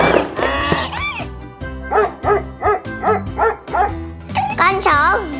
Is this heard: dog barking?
yes